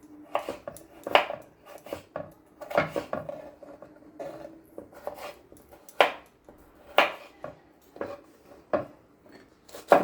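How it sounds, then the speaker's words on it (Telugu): A kitchen knife chops capsicum on a board for veg hakka noodles, giving a steady run of sharp, close, loud cuts in uneven bursts with no talk. "క్రాస్లో సన్నగా కట్ చేసుకుందాం"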